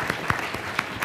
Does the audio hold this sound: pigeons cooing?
no